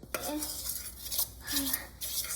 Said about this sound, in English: while we mix it, we're just gonna flatten the butter so it becomes creamy